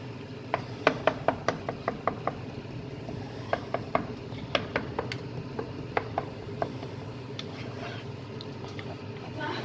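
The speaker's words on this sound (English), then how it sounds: "Give that a good mix" A spoon stirs a mixture in a pan in a home kitchen, a series of sharp clinks and scrapes in irregular bursts against a quiet background.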